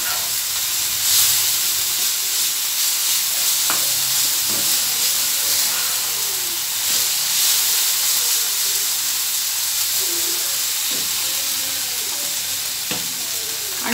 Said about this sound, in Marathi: त्याच्यानंतर बटाटा टाकून द्यायचे आपल्याला ह्यो किसलेला। हे सर्व हलवून घ्यायचे आपल्याला मस्त।